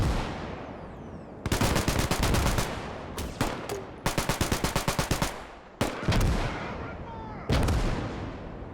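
Machine gun fire in a Vietnam War hilltop firebase siege video game, with loud, close bursts of rapid rattling shots broken by short pauses, each burst hammering in sharp repeated cracks.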